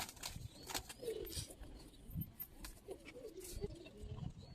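Old-breed Giribaz pigeons in a loft give soft, low coos in short repeated phrases, faint and close, with a few light rustles and no talking.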